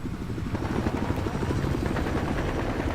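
A helicopter in the video game Battlefield Hardline flies close by with a loud, steady chopping rotor rumble, dense and continuous for the whole stretch.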